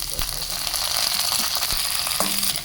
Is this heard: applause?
no